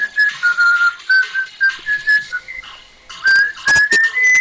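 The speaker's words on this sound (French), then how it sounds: "Le micro est saturé quand tu siffles." A person whistles a tune very loudly and close, hard enough to saturate and distort the microphone, in short bursts with brief gaps between notes.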